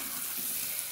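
Rice added to a frying pan with mortadella, giving a steady, close hissing sizzle with a faint stirring rustle underneath.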